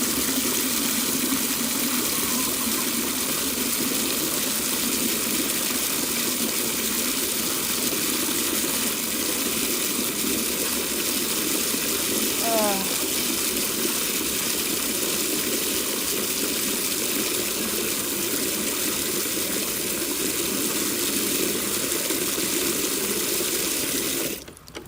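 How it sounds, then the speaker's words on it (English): Tap water runs steadily into a sink for more than twenty seconds, a continuous close hiss and splash at an even level that cuts off abruptly at the end. "just getting some fresh water"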